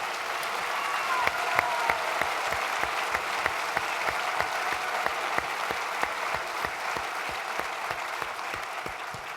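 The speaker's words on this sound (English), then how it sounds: "So let's give him an applause." An audience at a Reagan forum with Mark Levin applauds steadily, a dense sustained wash of many hands clapping with a regular pulse running throughout, loud and continuous for several seconds with no one speaking over it.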